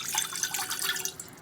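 Citric acid solution poured into a cooking pot while making fresh mozzarella, a light trickling, splashing pour that is soft and continuous, with no speech.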